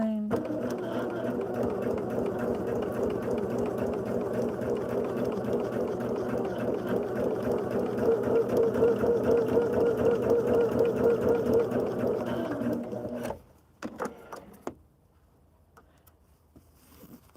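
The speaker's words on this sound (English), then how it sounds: "Turn it over, sew down that line." A sewing machine runs continuously, sewing a line with a steady close whirr, then stops abruptly near the end, leaving a few clicks and quiet.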